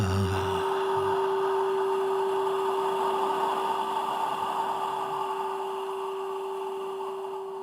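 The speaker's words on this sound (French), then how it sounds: "tu vas non pas chanter, mais souffler le son A" A breathy blown-out "A" sound in a meditation session, a soft airy hiss held steadily for several seconds with a faint constant tone beneath, gradually fading.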